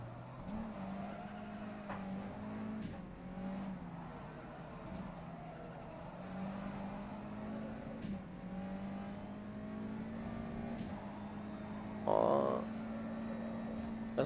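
A USF Formula 2000 race car in the rFactor 2 racing sim braking into a corner: a steady, buzzing engine drone that shifts in pitch, with a brief louder burst near the end.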